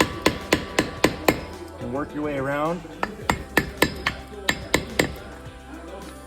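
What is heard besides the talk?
hammer and flat blade knocking out old hub seal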